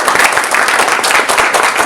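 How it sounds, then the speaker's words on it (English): An audience claps at an education talk on Indian perspectives, a dense, loud burst of applause filling the short moment. "Let's clap for it."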